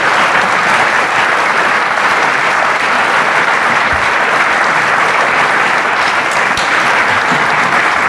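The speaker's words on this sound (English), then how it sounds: "give the gentleman a round of applause" Conference audience at a secret space program round table in San Mateo gives a gentleman a round of applause, loud continuous clapping from a full room that stays dense and even from start to finish.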